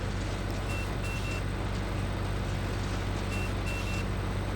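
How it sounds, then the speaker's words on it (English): A baler in Farming Simulator 19 sounds its reversing alarm, two pairs of short electronic beeps over a loud, constant mechanical engine hum, with no talk. "It also makes a few beeps."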